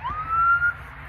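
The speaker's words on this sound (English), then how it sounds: "Got cop car still going with sirens over there." A police car siren heard outdoors near beehives, one rising wail that holds a steady pitch, moderately distant and clear with no talk over it.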